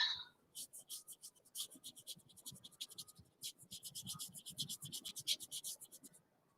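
Brush laying a watercolor glaze across paper, a soft, close scratching that repeats in quick rhythmic strokes, faint and alone with no talk.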